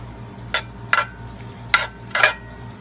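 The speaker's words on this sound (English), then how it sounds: "We're going to saute these a little bit." Bell pepper and sausage are sautéed in a pan for Cajun pasta, with four sharp metal utensil scrapes and clinks against the pan over a faint low background hum, close up and without talk.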